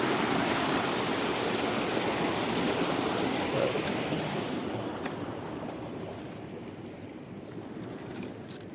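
Canal water being diverted into a farm field, a close, steady rushing flow that fades gradually toward the end, leaving quieter trickling and a few faint clicks.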